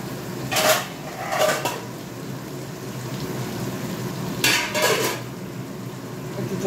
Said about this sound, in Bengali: ওইদিকে ভাতের হয়ে ঢাকাটাও দিয়ে দিই।